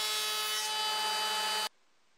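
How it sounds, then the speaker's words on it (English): Spruce boards being milled on a power tool for a box joint jig, a loud, steady whining cut with a rich buzzing tone that runs without a break for about a second and a half, then stops abruptly. "I milled two pieces of spruce that will support the workpiece underneath the carriage"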